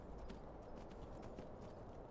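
Rhythmic clip-clop of horse hooves trotting at a steady pace in the video game Skyrim, quiet and continuous, with no voices.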